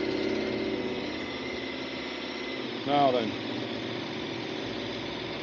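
A KTM 1290 Super Adventure S motorcycle engine runs at a steady idle throughout, with a short louder surge near the middle; someone speaks a few words over it.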